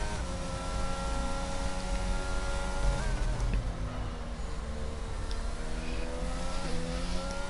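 McLaren Formula 1 car engine on a lap at the Bahrain Grand Prix in the F1 2022 game, a high-pitched steady whine with harmonic tones that shift through gear changes, continuous and moderately loud.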